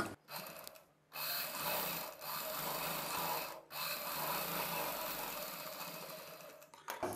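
A sewing machine stitches a Peter Pan designer blouse, running in long continuous bursts with brief pauses between them, close and steady with no talking.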